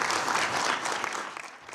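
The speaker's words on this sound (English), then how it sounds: "As the applause continued" Applause fills a chamber after a UN Security Council resolution is adopted, a sustained round of clapping that thins out and fades slightly toward the end.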